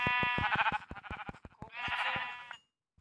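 Sheep in the Minecraft video game bleat repeatedly in close, loud, quavering cries over a game soundtrack, with a short pause between calls, then fall silent.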